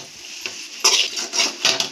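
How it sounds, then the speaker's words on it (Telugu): Egg noodles being tossed and stirred in a pan, with several bright metallic scrapes and clatters in bursts, plus a soft sizzle in between, close and loud. "ఇలా టాస్ చేసి బాగా మిక్స్ చేసుకోవాలి."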